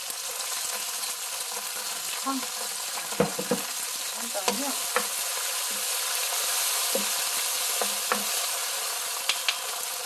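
Vegetables stir-fried in a pan for nanjawanseu, a Chinese-style Korean meatball dish, give a steady broadband sizzle with scattered clicks and scrapes from the utensil, close and continuous without talk.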